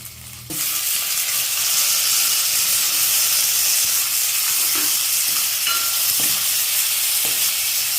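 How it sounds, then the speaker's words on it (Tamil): Onions sautéing in a pan for manathakkali keerai soup give a loud, steady sizzle that starts abruptly after a short quiet moment and then holds as a dense hiss, with a few faint utensil clinks, close up and without talk. "கொஞ்சம் வெங்காயம் வதங்கணும்"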